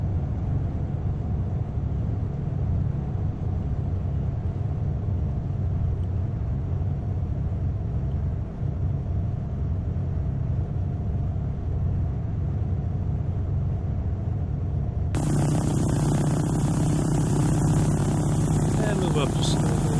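A Cessna 404 taxis in British Columbia in the FSX flight simulator. Its engines give a steady, droning propeller hum that shifts to a brighter, louder tone partway through, with voices talking at times.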